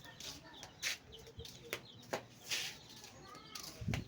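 Chickens cluck in short, scattered bursts outdoors, several separate calls spread across the moment, moderately close but fairly quiet, with some background noise and a low thump near the end.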